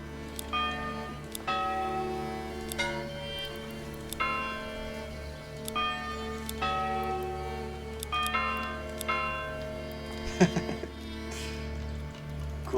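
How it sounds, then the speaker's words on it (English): A church bell rings in the medieval city-building game Manor Lords, with repeated sustained tolls spaced every second or two, each ringing out with long harmonic decay over a steady ambient bed. "What a bell sound."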